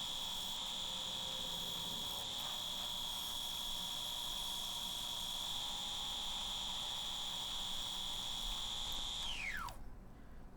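A wood lathe turning a walnut bowl holds a steady, loud high whine throughout, then spins down, its pitch sliding away near the end before quiet.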